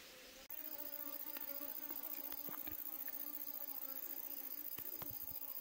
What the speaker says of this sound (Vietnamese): giờ có vẻ những con ong này rất là hăng các bác ạ